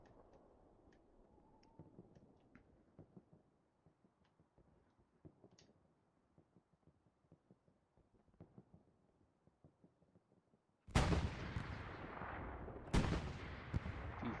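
Panzer IV tank cannon shots in a tank video game, two loud, booming blasts near the end after a long quiet stretch of faint ticking and clicks.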